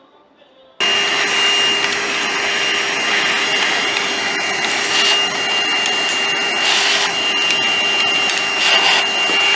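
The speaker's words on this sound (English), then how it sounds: "Vacuum it out." Vacuum cleaner suddenly switching on and sucking debris out of a car engine during a head teardown, a loud steady whine with scraping rattles as bits are drawn up, close and alone.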